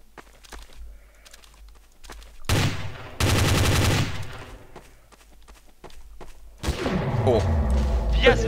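AWP sniper rifle shots in the game Trouble in Terrorist Town ring out as several loud, sharp blasts amid other gunfire and footsteps, with voices talking around them.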